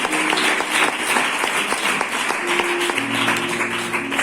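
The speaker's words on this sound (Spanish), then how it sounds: "Apláudele al Señor. Dale un aplauso." Steady congregation applause at a church service filling the whole stretch, a dense wash of clapping with no pauses, faint tones of music lingering underneath.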